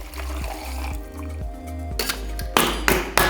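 Liquid poured over ice for a tequila sunrise cocktail, a close trickle with light clinks and a few sharper knocks toward the end.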